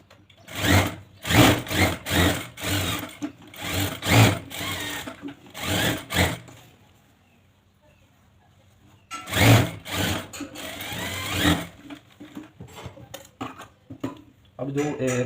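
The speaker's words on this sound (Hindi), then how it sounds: "और इस तरह से यहाँ पे गोल सिलाई लगाता हूँ।" A sewing machine stitches a trouser back pocket in fast, loud rattling bursts, pausing for a few quiet seconds before starting again, close up with occasional talk in between.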